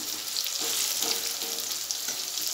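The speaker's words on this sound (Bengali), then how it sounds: "দিয়ে দেবো একটু হলুদ দিয়ে এবার ভালো করে নেড়ে চেড়ে আলুটা ভেজে নিচ্ছি" Potatoes frying in a pan with salt and turmeric while being stirred, a steady close sizzle with faint scraping stir strokes through it and no talk.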